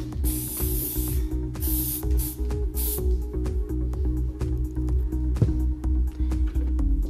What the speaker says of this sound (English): you want to give it one more blast with the hairspray